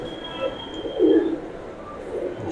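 A female India silk pigeon coos, with a low murmuring burst peaking near the middle, set against a steady background hum; no one speaks.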